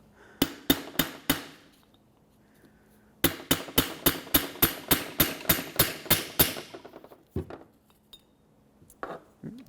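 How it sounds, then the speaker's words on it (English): A hammer strikes a bearing installer while seating a rear wheel bearing on a 2003-2021 Chevrolet Express 3500 van, producing sharp ringing metallic blows in rapid, evenly spaced bursts: a short run of four, a pause, then a longer run of about ten, and a few scattered final taps. "I'm just going to use this to hammer everything down"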